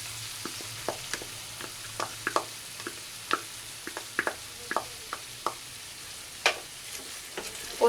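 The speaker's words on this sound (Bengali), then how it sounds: "পোস্তটা দিয়ে মিশিয়ে নেব" Snake gourd frying in a pan with poppy seeds, a steady low sizzle punctuated by frequent sharp clicks and scrapes of a spatula stirring, close and clear with no talking.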